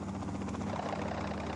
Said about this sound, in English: makes the first indoor helicopter flight in the Western Hemisphere